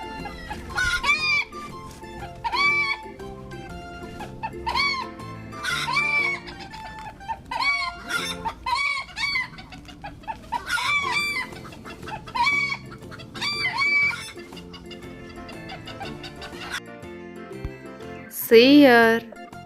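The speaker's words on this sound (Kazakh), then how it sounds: "Тауық." Chickens clucking repeatedly and a rooster crowing, loud and close, in short bursts with brief pauses, ending with a sharp louder crow.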